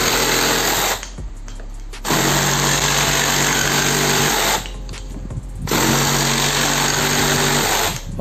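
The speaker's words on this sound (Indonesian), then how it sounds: "pemotongan pipa PVC menggunakan mata gergaji yang sama" A Worksite CJS-326 cordless jigsaw cuts PVC pipe in three loud, buzzing bursts of rapid reciprocating strokes, separated by short pauses where the motor drops off.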